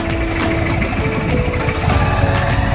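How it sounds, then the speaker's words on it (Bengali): A trawler boat engine chugs steadily on a river, a constant mechanical drone with a faint whine, moderately loud and unbroken throughout. "ওই যে ট্রলার দেখতে পাচ্ছি আমরা"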